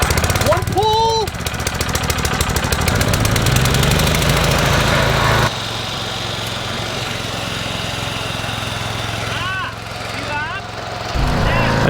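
A petrol lawn mower runs loudly and steadily while cutting grass during a mid-season mowing job, its engine holding a constant drone with a shift in load partway through.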